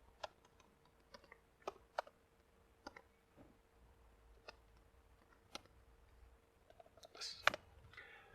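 Light, scattered clicks from a computer keyboard come as an HTML heading tag is typed. The keystrokes sound faint and irregular, with a short burst of clicks near the end.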